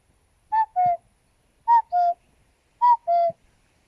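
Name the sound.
person whistling an imitation of a cuckoo's call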